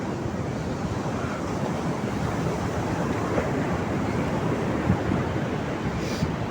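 Ocean waves breaking steadily on a beach in southern Cianjur, a continuous loud roar of surf mixed with wind buffeting the microphone, no voices.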